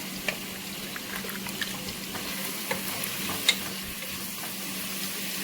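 Venison shank stew stirred in a pot over nearly high heat, a steady low bubbling simmer with occasional soft scrapes and clicks of a spoon against the pot, close and fairly quiet, no talking.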